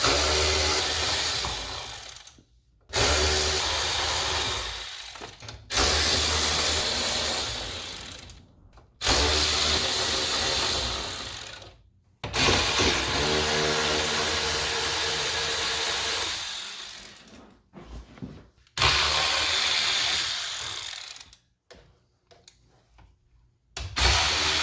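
Ratcheting and tool work on 7mm bolts holding the dash of a Corvette C8, in repeated bursts of several seconds separated by short pauses, close and fairly loud with no talk.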